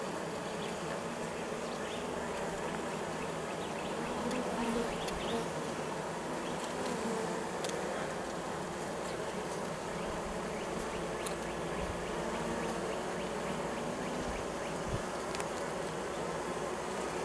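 Dense, steady buzzing of many honey bees in a hive close by, a continuous droning hum with scattered individual wingbeats, no voices.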